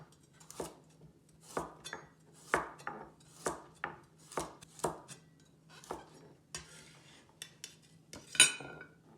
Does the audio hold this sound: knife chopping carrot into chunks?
yes